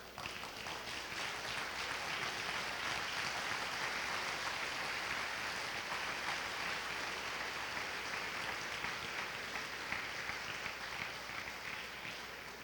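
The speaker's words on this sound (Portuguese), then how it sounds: "Vamos ficar de pé para recebê-lo e uma calorosa salva de palmas." A church congregation at a conference, standing to welcome a pastor with warm applause: a dense, even wash of many hands clapping at a distance, sustained at a steady level throughout with no talk over it.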